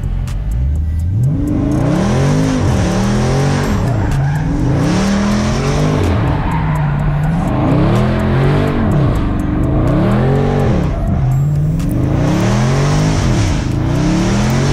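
A Dodge Scat Pack muscle car roaring loudly and continuously, its engine note rising and falling in repeated sweeping revs with a faint squeal of tires, all close and without talk.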